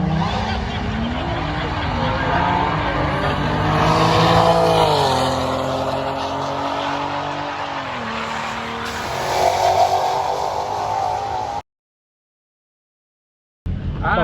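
A car engine roars and revs hard at a drag strip, rising and falling through gear changes, loud and close, before cutting out abruptly near the end.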